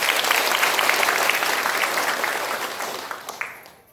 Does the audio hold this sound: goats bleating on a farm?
no